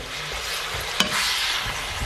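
Beef ox cheek stir fry with red and green peppers fries in a pan, a continuous close sizzle with stirring scrapes and one sharp clack of a utensil, no talking.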